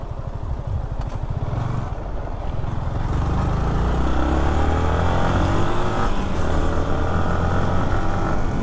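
A motorcycle engine drones and revs hard close by while off-roading in the Aravalli hills, a continuous loud rumble with rising and falling pitch as the bike climbs rough ground.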